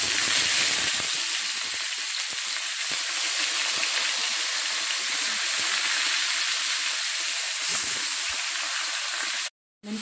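Rabbit pieces searing in a pan of hot ghee with mastic, a loud continuous frying sizzle and hiss close up, steady throughout with a short break near the end.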